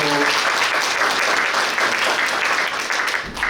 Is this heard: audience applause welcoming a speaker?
yes